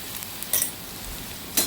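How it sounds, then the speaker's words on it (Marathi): Onion and spices sautéing in a pan for masala rice give a soft, continuous sizzle, broken by two brief scraping stirs of a spoon. "आता आपण ह्याच्यामध्ये ह्याला व्यवस्थित परतून घ्यायचं आहे."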